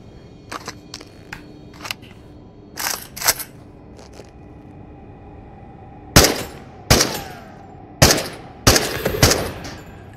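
Automatic gunfire from a firearm, heard as sharp separate shots, a few spaced bursts early on and then louder, closer cracks near the end, with no talking.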